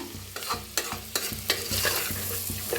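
Vegetables for an aloo matar curry roast in a hot pan, a spoon scraping and stirring in regular strokes over a steady sizzle, close and fairly loud, with no talking.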